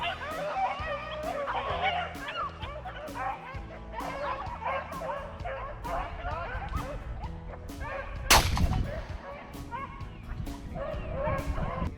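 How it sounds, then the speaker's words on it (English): Pack of beagles bawling while running a rabbit trail, many overlapping baying and yipping voices at a busy, uneven rhythm, fairly close, with a sharp crack partway through. "when you hear a pack of beagles bawling hot on the trail of a rabbit"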